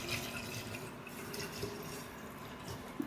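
Water poured from a tap into a jar of cucumber, lemon and ginger slices for detox water, a steady soft trickle and splash throughout, quiet and close with no talk.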